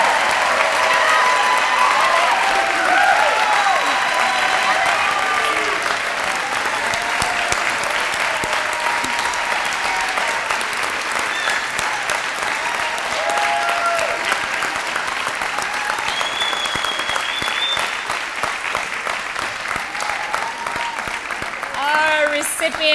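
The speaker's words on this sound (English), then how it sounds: "Big round of applause" Sustained audience applause fills a hall at an employee recognition celebration as the curtain rises on the award recipients, loud and dense throughout, with cheers and voices mixed into the clapping.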